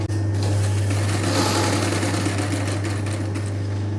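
A sewing machine stitches blouse fabric with a steady, continuous motor hum and rapid needle chatter, loud and close, running without pause and with no talk.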